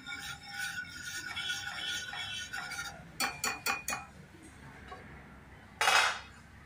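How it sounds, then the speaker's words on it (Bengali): A spoon mixes pasta ingredients with cheese in a bowl, giving a run of quick metallic clinks and scrapes, then a brief louder scrape near the end, fairly close with no talking. "একদম ভালো করে মিক্স করে নিচ্ছি।"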